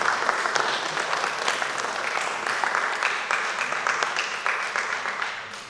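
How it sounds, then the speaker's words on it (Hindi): A mushaira audience applauds steadily, a dense wash of many hands clapping throughout without pause, full and close, gradually thinning slightly at the end. "शमीम साहब के लिए ज़रा तालियां बजाएं।"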